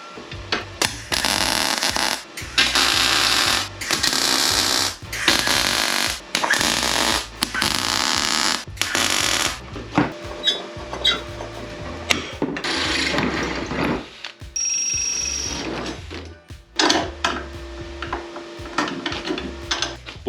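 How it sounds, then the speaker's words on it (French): Metal tubes of a modified folding bicycle frame are welded in a series of loud, crackling bursts of about a second each, separated by short pauses, with later passes shorter and more broken. "C'est ces deux pièces qui sont soudées entièrement. C'est parti, petite séance de soudure."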